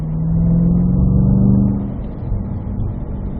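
A racing car's engine holds a steady fourth-gear drone on the straightaway, loud and close, easing slightly toward the end with no one speaking.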